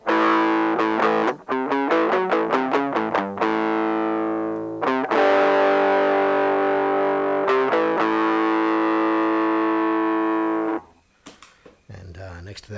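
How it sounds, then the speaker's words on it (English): Electric guitar run through an MXR overdrive pedal gives a gritty, hard-rock distorted tone: fast choppy strummed chords, then long sustained ringing chords, ending with a few quiet picked notes and brief talk. "I've got a MXR overdrive pedal, which basically is distortion for the sort of heavier numbers that we play"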